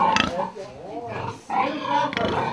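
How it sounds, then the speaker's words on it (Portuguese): A piglet on a farm grunts and squeals with short, close, fairly loud calls, heard amid someone talking nearby. "Isso é porco ou leitão? Leitão."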